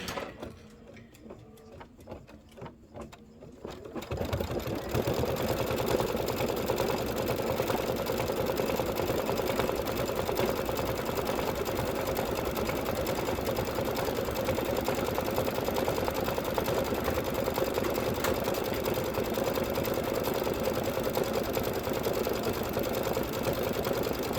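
An embroidery machine runs through a Kimberbell Spring Showers orange peel design, first with a few slow, separate clicks and then with a steady, fast, loud mechanical stitching hum that continues to the end.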